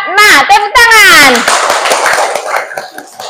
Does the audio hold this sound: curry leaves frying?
no